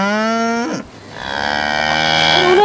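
Cattle lowing on the open steppe in Mongolia: one loud, close moo breaks off, then a second long drawn-out call swells and holds to the end, with no talking.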